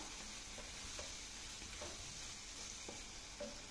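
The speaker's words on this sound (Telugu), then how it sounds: "ఈ కారం వేసిన తర్వాత ఒక్క నిమిషం ఈ విధంగా వేగనిద్దాం" Chopped tomatoes fry with chili powder in a pan, giving a faint, steady sizzle with a few soft scraping stirs of a spoon scattered through it.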